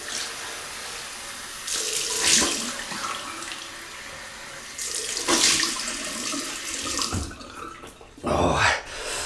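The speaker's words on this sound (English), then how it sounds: "Cold water, Welsh water." Cold tap water runs into a bathroom sink in three loud bursts of splashing flow, each a second or two long, separated by quieter gaps.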